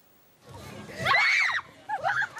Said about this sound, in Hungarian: Sikításokból is volt elég hétfő este a nagy erdőn.